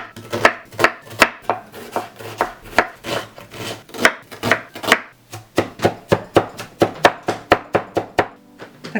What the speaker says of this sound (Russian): Так как в сыром виде, поэтому нарезаем как можно мельче.